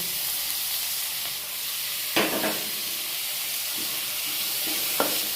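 Tomato sizzles in a hot pan for a dried shrimp thoran, a steady loud frying hiss with a few soft stirring scrapes and clicks, no voices.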